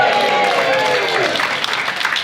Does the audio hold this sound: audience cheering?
yes